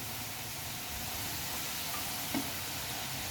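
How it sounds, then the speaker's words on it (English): Potato French fries frying in hot oil until crispy brown, a steady dense sizzle that fills the whole clip at an even level, with one faint knock near the end. "fry it till crispy brown"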